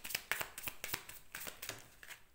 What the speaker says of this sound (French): On va tirer juste une dernière carte parce que je l'aime beaucoup cet oracle, le Whispers of Love